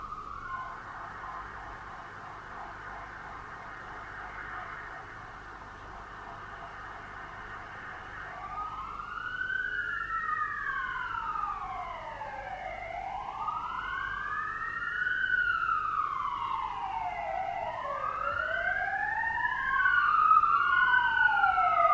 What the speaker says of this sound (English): That was a lot of sirens.